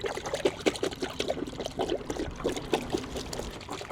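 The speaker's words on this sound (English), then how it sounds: "we're gonna pour what we can in here. It's not gonna all go in because it's so thick" Thick car wash soap glugs and trickles from a container into a wash bucket, an uneven close pouring with soft bubbling splashes throughout.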